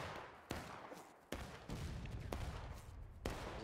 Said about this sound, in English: Shots. Right in front.